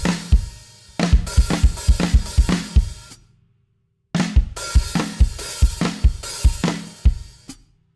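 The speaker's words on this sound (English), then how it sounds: "Then we come in with the legendary drum fill that sounds like this" A drum kit plays the intro fill of a song with flams and open hi-hats: a burst of punchy snare and tom hits, a brief silence, then the full driving rhythm returns, loud and close.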